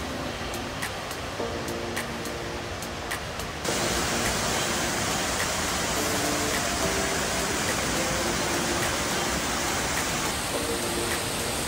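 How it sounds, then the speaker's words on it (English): A waterfall in downtown Greenville, South Carolina, along a riverside bike trail gives a broad, continuous rushing roar that grows louder partway through, with faint bicycle clicks and tones over it. "At the back of us is the big water flow"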